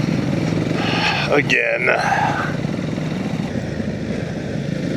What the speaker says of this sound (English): That was a nice little wheelie